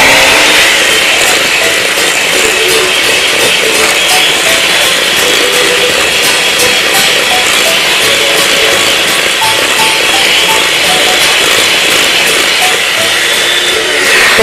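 Eggs are beaten into cake batter for a Christmas wreath cake, a loud, continuous motorized whir that holds steady and close for the whole stretch with no talking.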